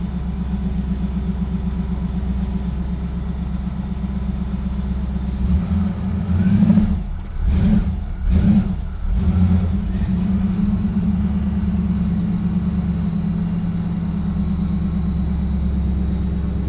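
A boosted V8 on a dyno drones at a steady loud idle, then runs through a few quick revs and pulses midway before settling back to an even, heavy rumble.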